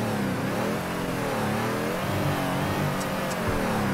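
Subaru BRZ engine in a drifting video game, revving hard with rising and falling pitch as the car slides, steady and close with no talk.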